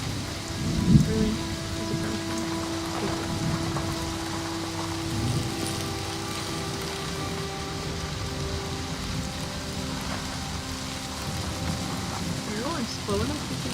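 Steady rain pours throughout a scene in the video game Season: A Letter to the Future, a continuous hiss of drops on surfaces with a low rumble beneath, while people talk over it at times.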